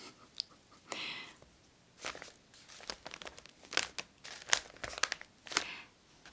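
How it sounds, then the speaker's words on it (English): Stiff pages of a water-soaked, dried Martha Stewart Living magazine (May edition) crinkle and crackle close up in short, irregular bursts separated by brief quiet gaps. "Here is just a little preview of the crinkles. Some of the pages are very stiff."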